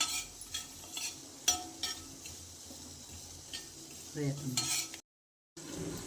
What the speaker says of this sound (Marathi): 2 चम्मच सरसो, मोहरी. त्याला कमी गॅसवर चांगलं भाजून घ्यायचं.